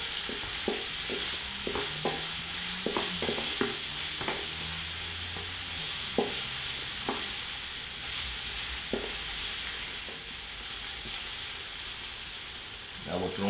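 Food sizzles and crackles in a very hot pan on high heat, a constant hiss broken by sharp pops and the scrape of stirring, fairly close and moderately loud.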